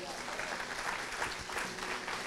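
A church congregation claps together, dense steady applause filling the space for a couple of seconds.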